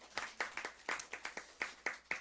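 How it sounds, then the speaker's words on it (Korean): A church congregation gives a short round of applause in praise, about a dozen separate claps in an uneven rhythm, fairly quiet and sparse, with no talk over them. "우리 한 번 더 영광의 박수 드릴까요?"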